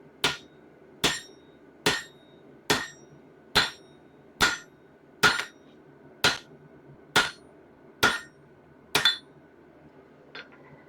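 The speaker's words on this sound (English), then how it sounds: "we're getting a little bit of smoothing out of the edges from where I was able to hammer that" Hot axe steel is hammered at a forge, about ten sharp, evenly spaced ringing blows about a second apart, close and clear with no talking.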